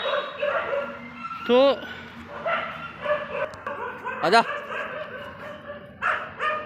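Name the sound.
dogs barking in the neighbourhood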